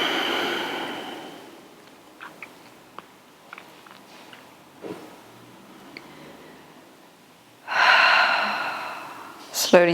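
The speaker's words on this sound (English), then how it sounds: "And exhale." Slow, audible yoga exhales: a long breathy release fades at the start, then quiet with small clicks, and another strong rush of breath comes near the end.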